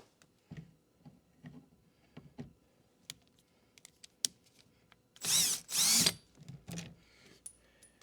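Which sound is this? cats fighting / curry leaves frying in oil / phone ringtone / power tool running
power tool running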